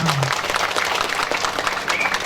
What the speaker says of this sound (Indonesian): Tepuk tangan untuk Pak Melki semuanya